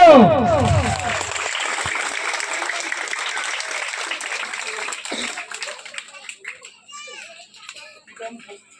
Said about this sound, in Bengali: হাততালি কোথায় গেল